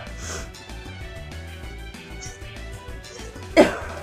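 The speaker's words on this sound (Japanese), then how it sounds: "咳が出ちゃった。" A single sharp cough from a person who meant to sneeze during a timed challenge, bursting out near the end over a steady backdrop of music.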